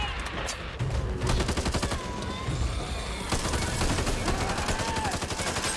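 Rapid bursts of automatic gunfire and booming shots fill a firefight in the co-op shooter game Back 4 Blood, dense and loud with overlapping weapon sounds and brief effects layered on top.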